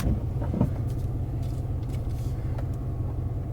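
A car creeping forward as the driver eases off the brake during a driving lesson: a steady low rumble of the engine and tyres inside the cabin, even and unhurried, with no talking.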